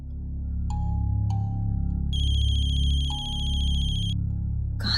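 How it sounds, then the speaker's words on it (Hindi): A mobile phone rings somewhere nearby in a house, giving a short electronic tone, then a bright repeating chirp pattern for about two seconds, then another brief tone, over a steady low background hum. "मम्मा फोन की आवाज तो यही कहीं से आ रही है।"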